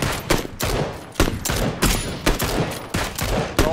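Rapid bursts of gunfire in the battle royale game PUBG, repeated loud sharp shots in irregular clusters through the whole stretch, no talk.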